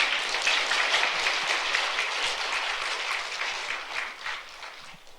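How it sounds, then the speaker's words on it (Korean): A church congregation applauds with dense, sustained clapping that holds steady for several seconds and then gradually thins toward the end, heard from within the room. "하여튼 박수 한번 친다."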